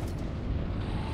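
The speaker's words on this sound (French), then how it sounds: "Grenade explosive, c'est pas mal quand même." A grenade goes off in the PC game Section 13, a deep rumbling boom that fills the whole moment at steady loudness.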